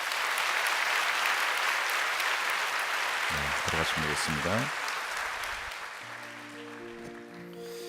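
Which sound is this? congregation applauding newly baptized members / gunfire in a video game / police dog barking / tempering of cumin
congregation applauding newly baptized members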